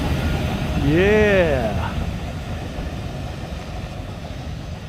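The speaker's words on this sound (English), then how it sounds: "here's the first tram that we've seen of the day, close up" Old tram passes close by at Crich Tramway Village, its wheels letting out a rising and falling squeal over a low rumble of the moving car, with brief talk nearby.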